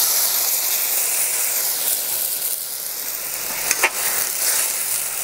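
Water poured into a pan of frying chicken with oyster sauce gives a loud, steady sizzle and hiss, swelling briefly with a sharper burst of steam near the end.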